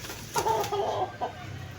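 A chicken clucks nearby in two short bursts, low throaty calls over faint background hum.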